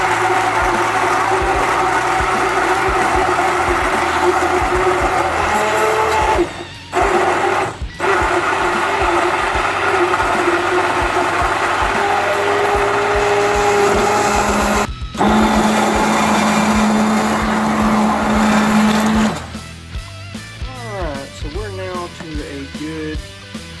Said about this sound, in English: I'm going to take my stick blender here and start blending away